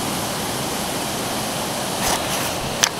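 The River Erme rushing in broad, steady white noise, close and loud, with a brief splash or knock near the end.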